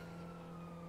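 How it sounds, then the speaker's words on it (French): An ambulance siren in GTA 5 holds a steady, sustained tone with a low hum beneath it, moderately faint, heard alone for about a second. "Ah ouais, y a une ambulance et tout là-bas"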